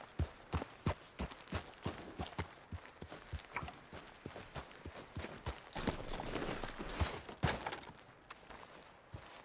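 Horse hooves gallop in the Red Dead Redemption 2 video game, a fast, loud, rhythmic clip-clop that pounds on continuously, with a brief surge of heavier hoofbeats partway through.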